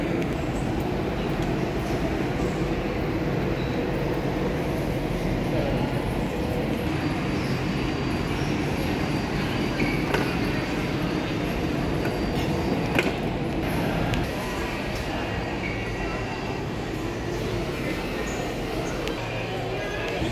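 A train at a station in Sydney, near the harbour at Balmain, gives a steady broadband rumble of rolling wagons, fairly loud and continuous throughout, with a brief clatter partway through and a speaking voice at times.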